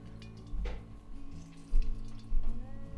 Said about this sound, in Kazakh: суын ыдысымызға сығып құйып аламыз